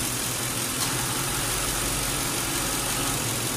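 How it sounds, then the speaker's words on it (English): A Lincoln Town Car's engine runs with the A/C compressor engaged, giving a steady, even mechanical hum at close range with no breaks. "The compressor now is staying on. It's going on and off, but now it's taking longer for it to shut down."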